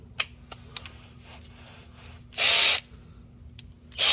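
Power tool fitted with a 13 mm socket loosening a car's oil drain plug: two loud, sustained whirring bursts of about a third of a second each, with light clicks and handling noises before them.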